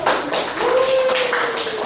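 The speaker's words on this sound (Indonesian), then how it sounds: "Iya, bentar, tepuk tangan dulu." Children in a fifth-grade primary school classroom clap their hands together, a dense burst of close, bright claps lasting a couple of seconds, with a faint voice underneath.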